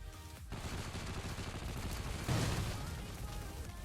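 A silenced submachine gun in a video game fires a steady run of muffled, rapid automatic shots, with a slightly louder swell partway through and no talking.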